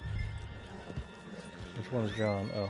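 A horse in Red Dead Redemption 2 snorts and whinnies loudly near the end, after scattered hoof clops, with people talking over it.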